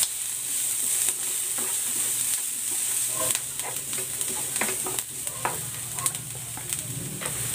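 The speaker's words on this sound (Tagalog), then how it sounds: "Magigisa na ako ng bawang. At ng sibuyas." Garlic and onion sautéing in a pan for stuffed squid, a close, steady sizzle broken by repeated clicks and scrapes of a spatula stirring, with no voices.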